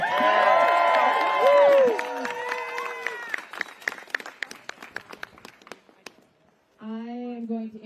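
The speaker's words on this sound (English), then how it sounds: "Can we get one more round of applause for Molly?" Crowd at a Save The Post rally applauding speaker Molly, cheering and clapping loud at first then thinning into scattered claps, with a voice speaking over the start and again at the end.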